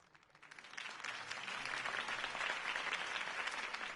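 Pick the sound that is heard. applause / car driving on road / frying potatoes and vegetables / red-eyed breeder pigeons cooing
applause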